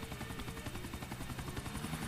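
Helicopter flying in the video game GTA 4: a dense, loud, continuous rotor thump with rapid regular pulsing over a steady engine roar.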